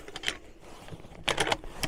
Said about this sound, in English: Feeds very nice and smoothly. The bolt functions very smoothly, rides very nice in the receiver.